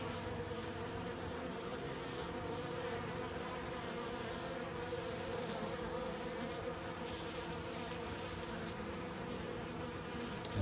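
Yellow jackets robbing a weak honey bee hive make a dense, continuous buzzing drone of many insects, steady and close throughout.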